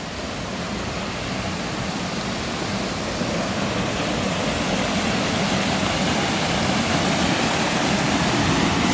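Steady broadband rush of a river flowing in autumn at Rivelin, a continuous loud wash of water with no breaks and no talking.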